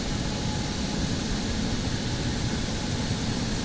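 The jet engines of an X-Crafts E-Jet start up in the X-Plane 12 flight simulator, a steady, dense broadband roar that holds constant and loud, with no voices.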